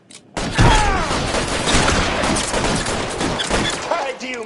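Dense bursts of rapid gunfire from an L.A. Noire shootout, loud and near, crackling continuously for several seconds with thuds and shouted voices mixed underneath.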